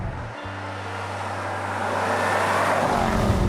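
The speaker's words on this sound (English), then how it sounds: "This model is powered by the latest version of JLR's 5-litre supercharged V8." A 2019 Range Rover SV Autobiography Dynamic with JLR's 5-litre supercharged V8 holds a steady low engine drone that swells into a louder, rougher roar toward the end, heard alone without talk.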